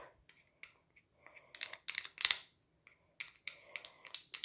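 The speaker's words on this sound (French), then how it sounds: "je vais mélanger ma maïzena et mon lait" Cornstarch and milk are mixed in a bowl, giving a series of sharp, light spoon clinks and taps in quick irregular bursts against a quiet background.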